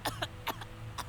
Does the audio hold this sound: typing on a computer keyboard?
no